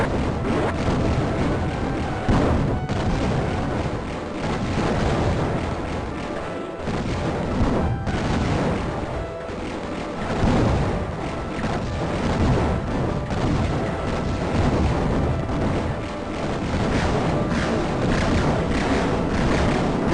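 Explosions and weapon blasts pound at buildings in the shooter game Raptor, a dense, continuous barrage of booms and crashing hits that keeps going without a break, loud and close throughout.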